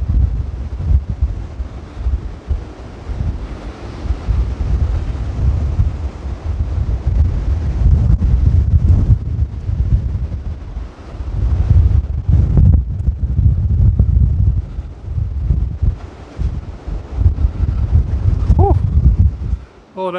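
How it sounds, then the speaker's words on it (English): Gale-force wind buffets the microphone outside St John the Evangelist Church in Little Leighs, Essex, a loud, gusty low roar that surges and eases continuously throughout. "Oh, that is blowing the gale."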